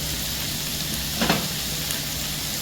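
Bell peppers sizzling in a hot pan while being stirred, a steady close frying hiss with a brief scraping swish partway through.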